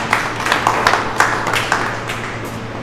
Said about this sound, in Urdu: تالیوں سے استقبال